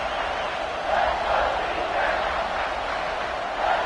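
Stadium crowd roaring steadily at an Auburn vs Georgia college football game, a dense, continuous wall of cheering that swells slightly in waves without letup.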